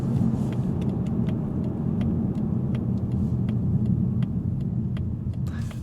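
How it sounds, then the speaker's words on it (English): Inside a 2024 Mazda 3 Sedan Turbo, the turn signal ticks in a steady, even rhythm of light clicks over a constant low rumble of road and engine noise. "What about mundane details like turn signal sound?"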